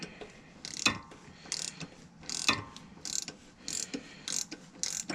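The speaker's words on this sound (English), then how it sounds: "you take your adapter and it goes right on the end of it, and you go ahead and loosen it up" A ratchet with an oil filter adapter loosens the oil filter on a 2013-2017 Lexus GS350, a series of close, sharp ratcheting clicks in uneven bursts between back-and-forth strokes.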